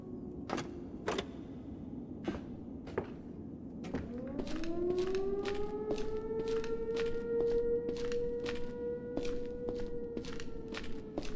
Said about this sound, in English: Siren in the distance.